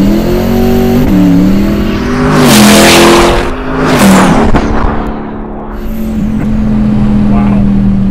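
Twin-turbo C8 Corvette rolling into acceleration from around 3,000 RPM, a loud engine roar that climbs in pitch, briefly drops at a gear change, then rises and settles, with turbo hiss heard from inside the car.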